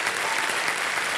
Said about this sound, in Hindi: एक बार तालियां बज जाए इनके लिए।